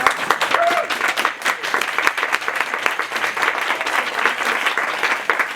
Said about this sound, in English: The first thing I propose is a round of applause for Yuri, who's done a marvelous job.